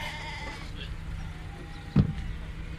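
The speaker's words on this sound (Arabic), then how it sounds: "هذا ما شاء الله خرفان كلها نعيمي" Naimi lambs bleat at a large sheep auction in Buraydah, one loud close bleat standing out briefly amid a low steady background hum of the market.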